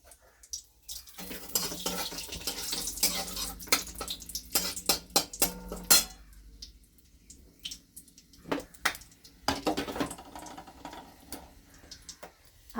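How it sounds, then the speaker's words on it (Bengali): Whole cardamom, cloves and cinnamon fry in a little oil for an egg kofta curry. The soft sizzle runs under repeated clinks and scrapes of a spoon stirring against the pan, close and fairly quiet, with no talk. "এই এলাচ লবঙ্গ দারচিনি একটু তেলে দিয়ে দিলাম।"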